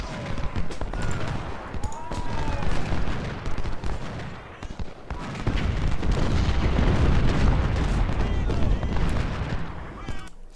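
Civil War troops fire volleys and cannons boom across the Gettysburg battlefield in Ultimate General, a dense, continuous roar of musketry with rolling artillery, heavier in the second half.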